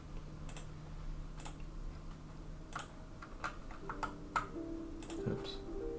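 Typing on a computer keyboard during a typing-speed test, with scattered sharp key clicks and taps in irregular bursts over a quiet room hum, fairly close and moderately soft.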